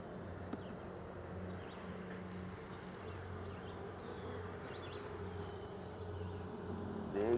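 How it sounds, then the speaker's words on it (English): Dense, steady buzzing of a honeybee swarm piled up below during a swarm transfer, a continuous low hum that stays even throughout and rises slightly toward the end, with no voices. "Big pile of bees down there."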